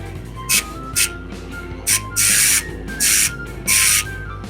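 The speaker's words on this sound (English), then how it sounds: "Let's fire up the compressor and blow this thing out." Air compressor nozzle blowing out a clutch slave cylinder in short hissing bursts, six blasts, the later ones longer and the last three lasting about half a second each, loud and close, with no talk.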